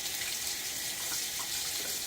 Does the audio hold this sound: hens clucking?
no